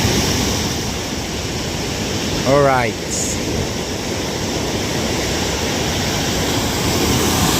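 Rough sea with big waves breaking as a constant, loud wash of surf and wind, with a man's short spoken word rising briefly above the roar.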